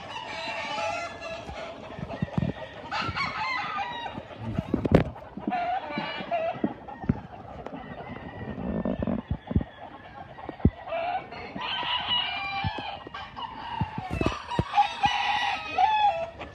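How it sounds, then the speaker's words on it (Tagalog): Roosters crowing repeatedly on a farm in the Philippines, several loud drawn-out calls spread across the stretch, mixed with hens clucking and other fowl noises in the background. "Kapag po tumitilaok, sign na sila yung mabubuhay."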